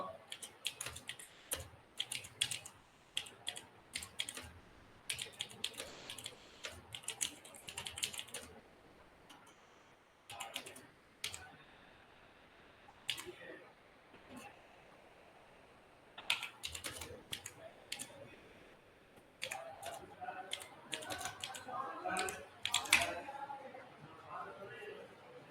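Typing on a computer keyboard comes in quick bursts of close clicking with pauses between, quiet overall, with some faint background voices.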